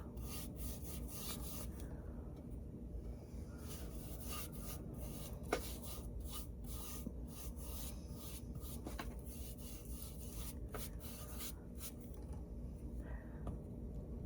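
A large brush spreads Dixie Belle Drop Cloth chalk paint over a primitive sheep craft, giving a steady soft scratchy rubbing with faint irregular strokes, close up and quiet over a low background hum.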